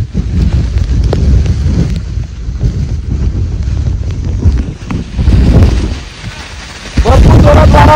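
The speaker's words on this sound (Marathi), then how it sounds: "भरपूर जोरात वारा मारतो" Gusty, strong wind on Girnar mountain in Gujarat pounds the microphone in a loud, rough roar, dipping for a second before slamming back harder, with faint voices mixed into the buffeting.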